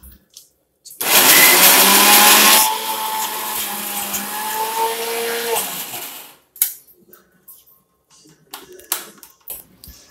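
A kitchen mixer grinder grinding cucumber and raw mango for chutney, loud and close, whirring for about five seconds with a rising motor pitch before stopping, followed by clinks and handling sounds.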